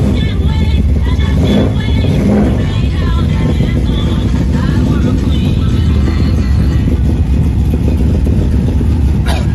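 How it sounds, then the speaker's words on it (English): A muscle car engine runs steadily with a loud, rumbling exhaust, a constant low throb filling the whole stretch with no pauses. "The exhaust kind of loud"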